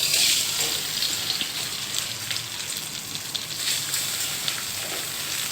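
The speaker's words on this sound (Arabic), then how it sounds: "بعد ما السمنه والزيت سخنوا ننزل بالرز" Rice tipped into hot ghee and oil in an aluminium pot, giving a steady, close broadband sizzle and crackle that continues evenly throughout, with no talking.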